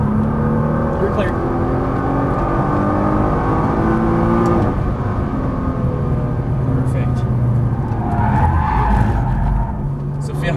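Nissan GT-R at speed on the Las Vegas Motor Speedway race track with a steady loud engine roar and tires skidding and squealing through a corner, while an instructor coaches the driver throughout.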